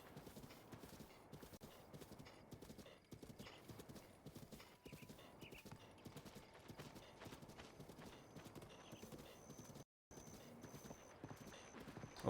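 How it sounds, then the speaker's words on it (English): Horse hooves clip-clop steadily in the Akkala Highlands of a video game, a continuous rhythmic trot with an occasional whinny, set under game music and a man's speech. "Where the hell is my horse?"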